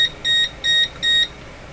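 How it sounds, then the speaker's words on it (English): Three evenly spaced electronic beeps sound from tube testing equipment in a workbench setup, each a short steady tone, clear and close. "Who's beeping? Who's beeping?"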